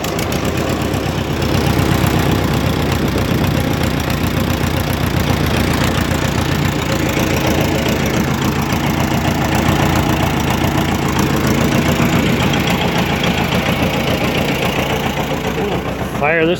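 An old Co-op E3 farm tractor engine runs at a steady idle just after starting, its close, loud, evenly pulsing knock continuing without pause throughout.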